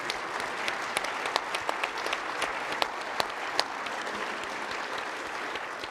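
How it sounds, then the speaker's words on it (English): Steady applause from an audience at an economy and monetary policy conversation event, a dense crowd clapping with a few sharper individual claps standing out near the front, continuing evenly throughout. "Let's give them a round of applause for all that they're doing."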